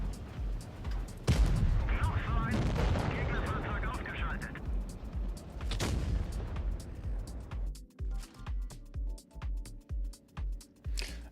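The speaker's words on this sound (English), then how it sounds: "Oh, this damn turret." A turret in The Finals, during a Blitz Masters tournament match, pounds out booming shots, first in heavy blasts mixed with commentary, then a regular series of evenly spaced thumps toward the end.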